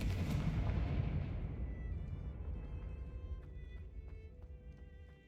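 A Confringo blast spell detonates in a video game: one heavy boom at the start that rumbles and slowly fades over several seconds, leaving a thin ringing tail.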